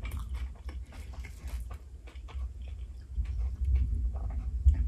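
Close-up crunchy chewing and biting into a cheesy tuna melt sandwich, irregular crisp crackles over a low mouth rumble, with no talking.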